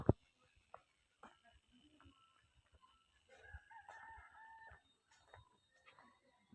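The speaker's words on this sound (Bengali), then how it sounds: "একটা দেশি মুরগি চড়ছে বন্ধুরা দেখুন জঙ্গলে ঢুকে গেল" A free-ranging desi chicken in a jungle village in Meghalaya clucks and calls faintly at a distance among scattered rustles and light knocks, with a longer, louder call in the middle.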